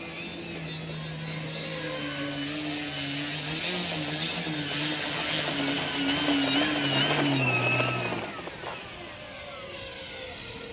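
An FMS Pitts Special V2 RC plane comes in to land in wind, its electric motor whining in steady, shifting tones. The whine rises and wavers, then drops off sharply near the end, leaving faint wind noise.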